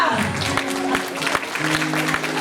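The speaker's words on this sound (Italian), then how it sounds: "Un applauso" Applause at a carnival stage show greets a newly introduced assistant, a short burst of clapping from the audience mixed with loudspeaker-amplified talk and a sustained musical tone.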